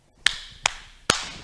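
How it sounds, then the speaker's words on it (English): Hands clap three times at a children's storytime, sharp, evenly spaced claps that stand out alone against a quiet room. "Can you clap your hands?"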